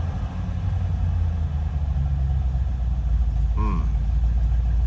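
A 1993 Land Rover Defender 110 with a 4.2L engine idles with a steady low rumble, close and continuous, while someone talks over it; a brief squeaky sound cuts in near the end.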